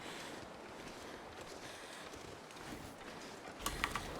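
Wind howls steadily across a snowy landscape in The Long Dark, a broad continuous rushing with a few brief gusty flurries near the end, no voices present.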